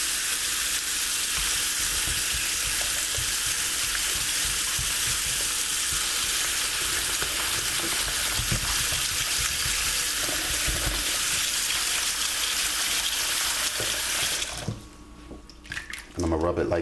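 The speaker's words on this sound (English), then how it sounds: "I'm going to add some cold water." Cold tap water runs steadily onto raw beef being scrubbed with salt for a classic pot roast, a continuous broad splashing hiss that fills the clip before cutting off abruptly near the end.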